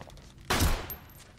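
A single short burst of gunfire in the video game Metal Gear Solid V, moderately loud against a quiet background.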